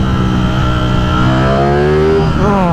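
A Ducati Streetfighter V4S motorcycle engine revving hard at about quarter throttle, a loud close roar whose pitch climbs steadily and then rises again toward the end.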